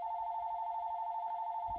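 A telephone rings steadily with an incoming call, a continuous electronic tone holding nearly unbroken for about two seconds, fairly loud and alone with only faint low thumps beneath.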